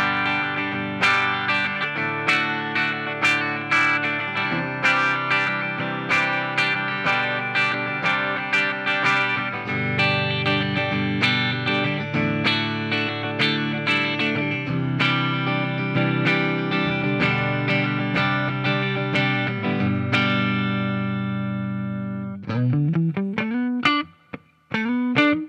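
A 2018 Gibson Les Paul Standard HP electric guitar on its bridge pickup plays loud, distorted chords and riffs with effects, sustaining steadily before ending in a few quick bent or sliding notes.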